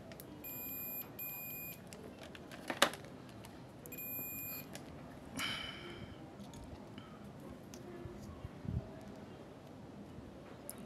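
Multimeter continuity beeps while MOSFETs on an electric scooter controller are tested: two short pairs of thin electronic beeps, the first near the start and the second a few seconds later, among faint handling clicks and quiet room noise.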